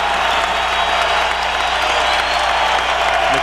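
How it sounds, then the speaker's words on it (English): A basketball arena crowd in a college game against NMSU roars loudly and steadily, a dense wall of cheering and applause throughout, with a commentator's voice faintly under it. "The crowd now at full throat."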